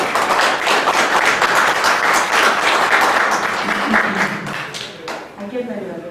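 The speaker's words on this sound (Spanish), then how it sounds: "especialista Marcos Manuel Castro Ruiz, a quien pido que le ofrezcamos un fuerte aplauso." A crowd claps loudly and continuously, a dense burst of applause that tapers off toward the end as a voice begins.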